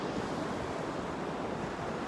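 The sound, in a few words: ocean waves washing onto the shore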